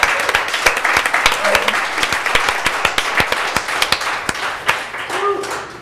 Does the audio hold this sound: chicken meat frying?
no